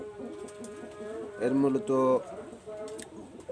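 Soft rhythmic cooing of high-flying Teddy pigeons sits close under a voice, with a brief louder burst of sound in the middle.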